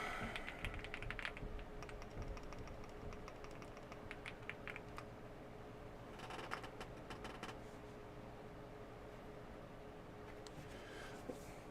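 Steady typing on a computer keyboard used to log in to a NAS, with quick clustered keystrokes and short pauses, close and fairly quiet over a low background hum.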